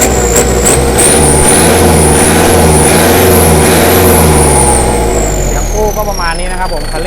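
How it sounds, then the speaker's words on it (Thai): Tuned vehicle engine with a wet air filter roars loudly and steadily up close, its pitch climbing and holding under throttle and then sliding down near the end, with a faint voice underneath. "อีกครั้งนะครับผมคันเร่งก็จะเร็ว ๆ หน่อยนะครับผม"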